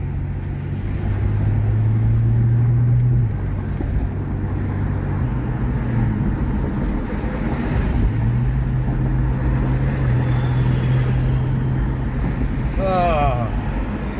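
A car cruises down the interstate toward Indianapolis on a hot rod road tour, giving off a loud, steady engine and road drone with shifting tonal hum throughout, and voices speak over it.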